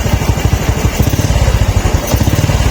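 Honda Wave 110 motorcycle engine running during a battery voltage check for an overcharging fault, giving a steady, close, loud low thumping pulse with no talk.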